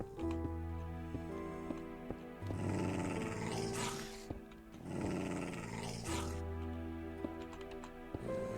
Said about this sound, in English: Bad dogs, go away.